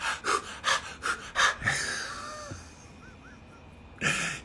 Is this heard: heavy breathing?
yes